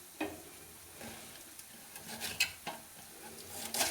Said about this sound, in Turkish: Şöyle bir yandan da soğanlarım kavrulsun.